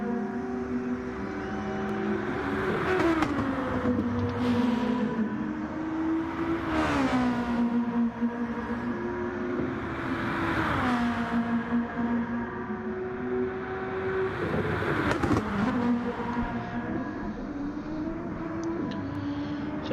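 Touring cars lap a racing circuit in a sim race, engines droning steadily with repeated rises and falls in pitch as cars accelerate and shift past, a continuous loud mechanical roar without voices.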